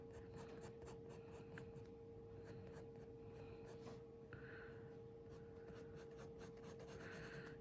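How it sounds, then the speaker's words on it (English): A hard 4H graphite pencil shades lightly on paper, soft repeated scratchy strokes in a steady back-and-forth rhythm, very quiet and close, with a faint constant hum underneath and no talking. "4H pencil, and it's going to make the lightest mark."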